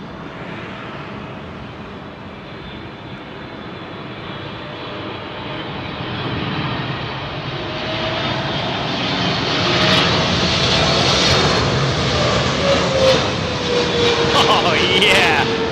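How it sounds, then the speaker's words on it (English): A Japan Airlines Boeing 777 jet arrives at London Heathrow runway 27L with a steady roaring engine rumble that swells louder as it nears, and a faint whine rises through it. "777 with Japan Airlines next in."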